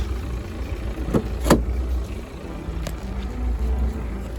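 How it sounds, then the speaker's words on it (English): A BMW car engine idles while warming up, a low, steady rumble close by with a couple of brief clicks over it. "She's running. I hope you listen the engine."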